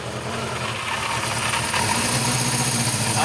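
A restored Honda CB400Four motorcycle engine idles just after starting, a steady close mechanical hum that grows slightly louder partway through.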